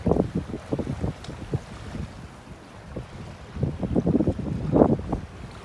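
Gusting wind of about 10 knots buffets the microphone in uneven bursts over the low rush of a sailboat moving through water near Sawyer Glacier in Tracy Arm, Alaska.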